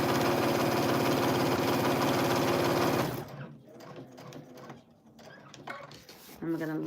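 A sewing machine stitches a quilted fabric placemat made from scraps, a fast rhythmic mechanical whir for about three seconds that then stops, followed by quiet handling clatter and faint voice sounds.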